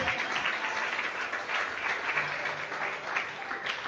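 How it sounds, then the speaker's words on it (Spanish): A church congregation gives the Lord a loud round of applause during a sermon, a thick, continuous wash of clapping that stays even and fairly close for the whole stretch. "le doy un fuerte aplauso al Señor"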